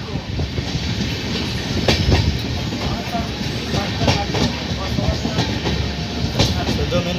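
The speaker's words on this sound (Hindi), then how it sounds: "ट्रेन खड़ी है डीजल के साथ।" A diesel train at a railway station gives off a continuous rumble and hiss with rhythmic clicking of rail cars, close and fairly loud throughout.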